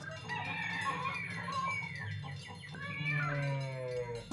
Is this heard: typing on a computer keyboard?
no